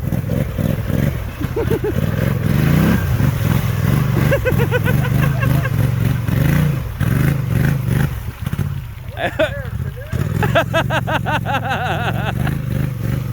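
Polaris Sportsman 850 ATV with snorkel kit revving near water beside a floating canoe, a loud engine roar rising and falling throughout while people talk and shout over it.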